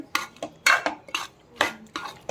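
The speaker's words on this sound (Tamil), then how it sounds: "நம்ம வணக்கி இருந்த காளான் எடுத்து கொட்டிக்கலாங்க" Soaked mushrooms are tipped into a cooking pan for village-style mushroom gravy, with a handful of clattering, scraping utensil knocks against the metal in quick irregular bursts, close and clear, with no speech.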